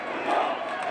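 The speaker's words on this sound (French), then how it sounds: "Par dizaines de milliers, ils défilent dans les rues du Caire en ce vendredi de la colère." Tens of thousands of protesters marching through the streets of Cairo on a Friday of anger, a dense roaring crowd murmur with swelling shouts, loud and continuous.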